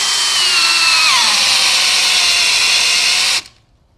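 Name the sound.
power drill drilling during a tool test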